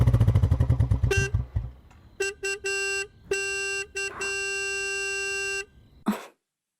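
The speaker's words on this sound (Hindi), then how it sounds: "देखो कोई बाहर हॉर्न बजा रहा है।" A car horn honks in a few short bursts, then blares in one long, steady blast, after an engine rumbles at the start.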